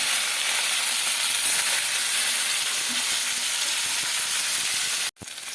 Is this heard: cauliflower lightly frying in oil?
yes